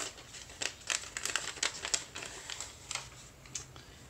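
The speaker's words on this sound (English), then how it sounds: "Peel off the paper backing." Paper backing is peeled off an adhesive piece while a quilt block is assembled, giving a quiet run of short, crinkly tearing bursts in irregular rhythm, close by with no talk.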